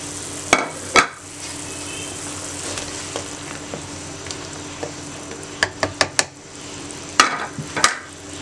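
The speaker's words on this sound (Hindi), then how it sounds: "और आप उबलते हुए पानी में डाल दें।" Noodle cake pieces cook in boiling water in a home kitchen, with a steady bubbling hiss broken by sharp utensil knocks and clinks at irregular intervals.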